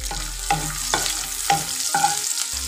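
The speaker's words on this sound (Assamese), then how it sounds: "তেলখিনি গৰম হৈ গৈছে আৰু এতিয়া মই ইয়াতে দি দিম অকণমান দেখিলা তেজপাত অকণমান গোটা জিৰা" Bay leaf, whole cumin and chopped garlic frying in hot oil for paneer butter masala, a steady sizzle broken by about five sharp stirring scrapes at regular intervals, close and fairly loud with no talking.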